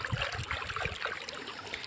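Running hot water pours and trickles steadily while something is washed under it, a close, continuous splashing stream with no talk over it.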